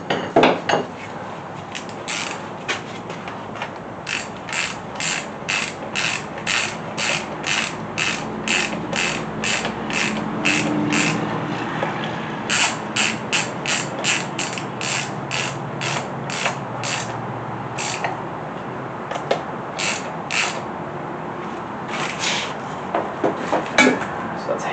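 A ratchet wrench clicks rapidly in long repeated bursts while connecting rod bolts are torqued down on a small block Chevy 350 engine during a rebuild, close and clear with brief pauses between strokes.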